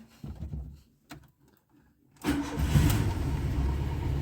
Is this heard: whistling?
no